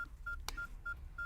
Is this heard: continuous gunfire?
no